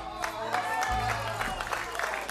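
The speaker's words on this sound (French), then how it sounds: "Vous applaudissez" Brief burst of studio audience applause on a French holiday-special game show, scattered claps over a low murmur, with a voice briefly cutting in underneath.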